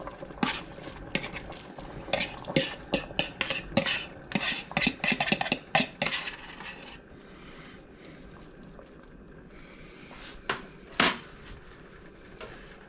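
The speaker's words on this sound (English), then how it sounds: "So now we're going to add our sausage back to the mixture." Sausage going back into a pot of Zuppa Toscana soup, with a cluster of clinking spoon-on-pot knocks and scraping stirs near the start, then quieter liquid stirring and a couple of final taps, close by without speech.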